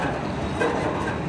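A long CN M399 westbound freight train passes near Port Huron, Michigan, giving a steady broadband rumble with faint rail clatter from fairly close and no talk.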